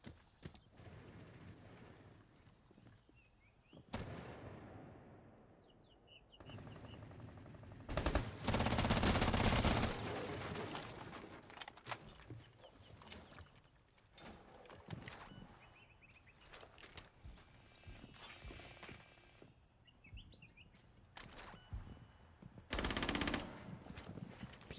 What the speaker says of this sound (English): P90 shots will ring to the main lobby in the meeting hall as Sprays' location has been given away